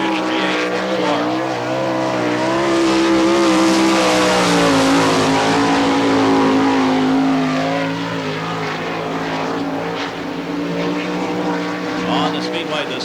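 Race car at Barberville speedway in Florida during an All Star Circuit of Champions Speedweek event, a loud sustained engine roar that swells as the car passes near and fades, with a commentator talking over it.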